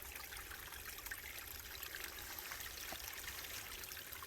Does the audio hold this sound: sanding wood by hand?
no